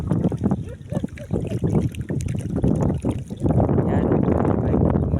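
A boat moves across water, with engine drone, wind buffeting and splashing, while people talk intermittently over the noise.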